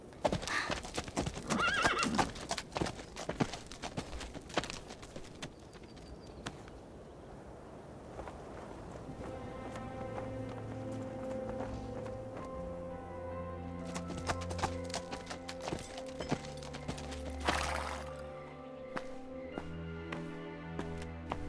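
A horse walking on a farm, hooves clip-clopping steadily, then a loud whinny near the end, over a light musical background.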